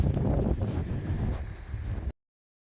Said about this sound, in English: Just wish it was a little bit less windy today.